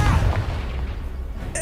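Confringo blasting curse in Hogwarts Legacy, a single deep booming explosion that hits at once and rumbles away, with a short whoosh at the very end.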